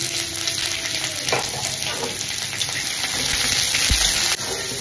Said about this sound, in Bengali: পেঁয়াজটাকে অল্প একটু হালকা ভাজা ভাজা করে